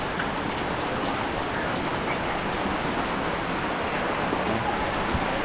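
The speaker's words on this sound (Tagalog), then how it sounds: "Lakas na ng ulan." Heavy typhoon rain pours down in a dense, unbroken hiss, steady and loud throughout with no pauses or voices.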